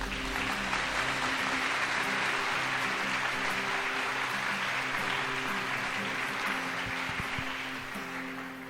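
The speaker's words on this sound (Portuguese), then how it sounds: "Você pode aplaudir a Jesus?" Church congregation applauding during a sermon, a steady wash of clapping that holds for the whole stretch with sustained musical tones, likely organ or keyboard, underneath, easing slightly near the end.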